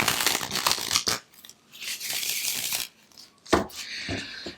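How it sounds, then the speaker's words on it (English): Tarot cards are shuffled close up in quick riffling bursts, crisp papery flicks separated by brief pauses, with no talking. "this is one last shuffle just for your benefit"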